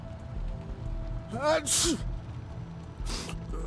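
A character in the video game Wasteland 3 sneezes from an allergy, giving one sharp, breathy burst after a short voiced intake, over faint rain-like background ambience.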